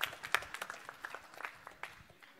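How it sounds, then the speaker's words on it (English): An audience at a creativity competition semifinal claps after a presentation, a short burst of scattered, fairly close hand claps that thins out toward the end. "one more round of applause for Project Pivot"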